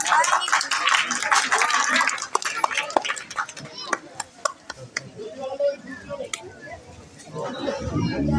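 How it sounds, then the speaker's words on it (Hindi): An audience claps at an Ambedkar Jayanti gathering with children present, scattered and uneven hand claps over lively crowd chatter and children's voices, tapering into sparse claps. "तालियां तालियां।"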